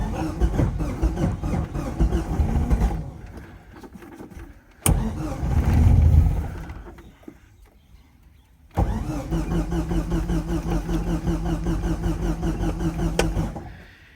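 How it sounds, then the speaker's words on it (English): A Ford Escort XR3 engine struggling to keep running, sputtering and surging in uneven bursts with a near-silent stall in the middle before it catches again and runs roughly and loudly to the end. "It's battling to stay alive, and it's huffing and puffing like crazy."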